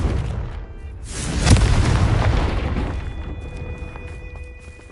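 Confringo spell blast in Hogwarts Legacy on PS5: a single booming explosive impact that swells and decays into a rumbling tail, heard alone without talk.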